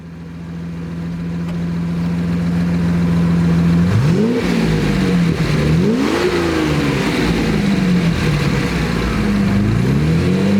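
A Jaguar E-Type with a V12 engine revving on a drive, a loud idle that swells into a couple of strong revs and drops back between them, sustained and close with no talk.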